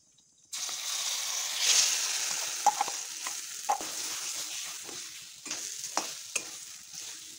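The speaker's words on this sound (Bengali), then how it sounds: "গরম কড়াইয়ে আমি দিয়ে দিচ্ছি সামান্য কালো জিরে, দিয়ে এখন ডাল বাটাটা আমি দিয়ে দেব।" Black cumin sizzles in hot oil in a kadai, then lentil paste goes in: a sudden loud hiss that settles into steady frying, punctuated by sharp scraping stirs and spatula knocks.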